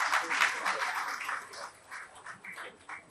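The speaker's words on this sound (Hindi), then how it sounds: "एक बार जोरदार तालियां बजाएं।" An audience at a session of the Astro Cultural Mahotsav in Delhi claps in a dense burst that starts strong and gradually thins into scattered, softer claps.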